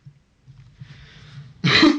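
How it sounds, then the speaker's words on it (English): A person with a lingering cough gives a few soft throat rumbles, then one short, loud cough near the end, close to the mic and with no talking. "Still having a bit of a cough,"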